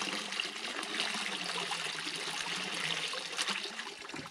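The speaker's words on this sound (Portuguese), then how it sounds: "eu vou tirar um pouquinho da água do balde." Water sloshing and trickling as it is scooped out of a bucket beside a water tank set up for raising fish, a steady close splashing that runs throughout with no talking.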